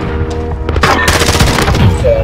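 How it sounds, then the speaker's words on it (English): Rapid bursts of video-game gunfire in a fast online shooter match, loud and close, sharp repeated shots packed into a couple of seconds with faint game noise underneath. "Who's shooting at me?"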